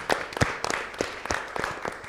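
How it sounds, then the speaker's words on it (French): Sparse, faint applause from an audience at a Miss RDCongo pageant evening, a handful of irregular claps close together with no voices over them. "Applaudissements pour Odia Kabakele, s'il vous plaît"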